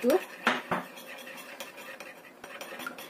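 A spoon clinks and scrapes in a bowl while a kwetiau sauce mixture with sesame oil is stirred: a few sharp clatters at the start, then quieter scraping.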